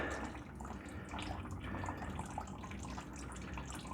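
Coolant pours and splashes out of a CForce 500 ATV after a hose is pulled off, a steady close gushing, trickling wash with no gaps throughout.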